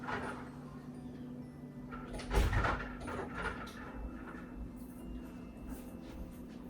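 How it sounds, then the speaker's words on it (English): A room door is shut indoors with a single thud partway through, preceded and followed by low room hum and some faint movement sounds, no talking. "let me go shut that door, my dears"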